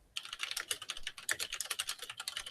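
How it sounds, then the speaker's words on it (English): Loud, close computer keyboard typing during live commentary of a game match, with a rapid, continuous run of sharp key clacks after a brief quiet start; no talk in the clip. "Sorry for my loud keyboard again."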